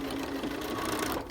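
Sewing machine set to a quarter-inch seam stitching a canvas tote bag, a rapid steady mechanical whirr and clatter at close range, running continuously without pause.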